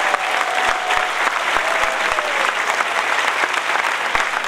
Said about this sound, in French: Je vous leur demande un tonnerre d'applaudissements pour les militants de la FACA ou du Grand Sud.